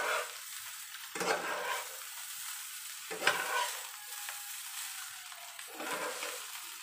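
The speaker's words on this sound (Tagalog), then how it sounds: "Haluin lang po natin." Fried rice being stirred in a pan under a continuous bright sizzle, with a few broad scraping sweeps of the spatula at irregular intervals, close and moderately loud, no talking.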